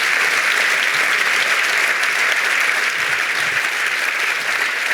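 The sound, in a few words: audience applause at sports awards ceremony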